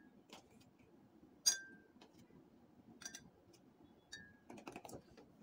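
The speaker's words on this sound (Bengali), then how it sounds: "তারপর সাথে আইস দিলাম" Ice cubes clinking into a glass of Glucon-D drink, a few sharp clinks and small rattles scattered over quiet background noise, faint and close.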